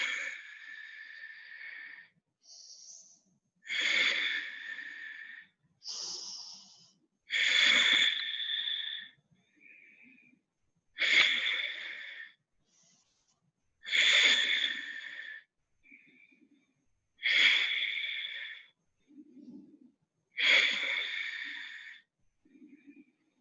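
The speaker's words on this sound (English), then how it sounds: "Deep inhale and deep exhale through your nose." Deep yoga breaths drawn in and pushed out through the nose repeat in a slow, even rhythm, close and clear, each airy inhale and exhale separated by short quiet pauses.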